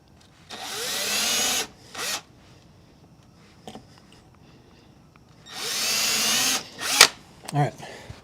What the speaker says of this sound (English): pilot holes for those little itty bitty screws